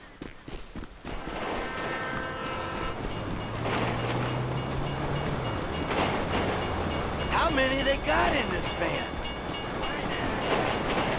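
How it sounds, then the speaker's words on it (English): A train rumbles past in GTA 5, a dense, loud rolling roar with clattering and a brief horn-like tone, while someone speaks over it partway through. "If you were local, you'd know the train comes by right now!"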